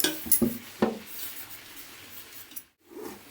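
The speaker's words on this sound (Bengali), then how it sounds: "প্রথমে একটু ডেচকিটাতে একটু ঘি মাখিয়ে নেব।" A metal cooking pot being greased with ghee gives a few light clinks and scrapes of a utensil against the pot, close and quiet, with soft handling noise between them.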